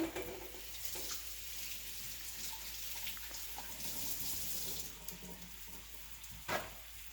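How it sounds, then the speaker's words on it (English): Squash frying in a pan, a faint steady sizzle with occasional soft clicks and a brief clatter near the end, no voices. "So now our squash is all in here. Letting it fry."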